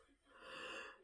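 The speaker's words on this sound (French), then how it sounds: "Je parle de fatiguée, du coup je baille." A single tired yawn from a woman, a breathy rising exhalation that swells and fades over about a second, quiet and close, with no speech.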